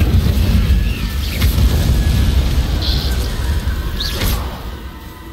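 Incendio fire spell cast in Hogwarts Legacy, a loud rumbling magical burst with roaring low-end blast texture and brief whooshing flares, continuous and close throughout.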